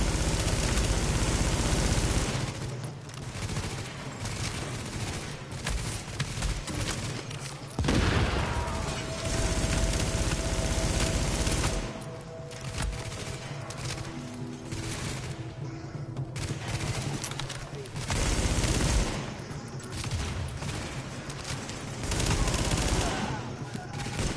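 Heavy gunfire in The Division video game, dense sustained volleys of automatic fire and blasts that keep returning in waves across the whole stretch, with players talking under it.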